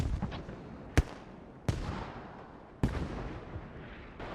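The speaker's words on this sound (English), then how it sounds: "Oh, we got infantry along with artillery." Artillery shells from a creeping barrage in the Squad military shooter thud down three times, distant and heavy, each sharp boom trailing off into rumbling battlefield noise between impacts.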